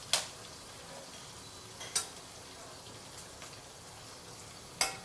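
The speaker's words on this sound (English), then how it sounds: "use medium-high heat or high heat to fry them for 2 to 3 minutes" Prawns frying over medium-high heat for sambal prawns, a faint steady sizzle broken by a few sharp spatter pops and light clicks, no voices.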